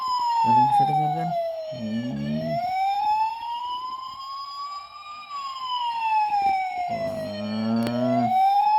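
A toy police car siren wails in a smooth, continuous rising and falling sweep, loud and close, while a child's or adult's voice talks in short bursts over it.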